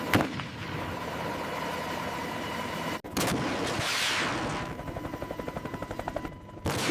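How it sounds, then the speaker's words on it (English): An AH-64 Apache helicopter's cannon fires rapid bursts, a loud rattling stream of shots that becomes a distinct evenly spaced pulsing toward the end, heard alone with no talking. "The primary cannon delivers precision fire against light armored targets."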